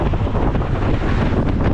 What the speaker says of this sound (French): il y a un peu un vent de côté qui vient de la mer comme ça